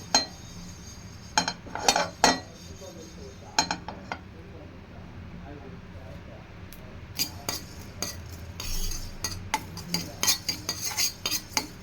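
Fenugreek and mustard seeds dry-roast in a pan on a home kitchen stove. A spoon stirs them with scattered metallic clinks and scrapes, bunched into short bursts over a quiet background.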